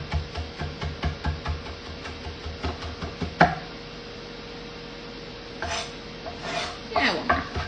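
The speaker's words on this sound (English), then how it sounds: "it actually makes it pretty easy to chop through." A kitchen knife chops repeatedly through crispy fried tofu on a cutting board, with a steady run of close, firm knocks and scrapes over a faint hum, then a few scattered cuts near the end.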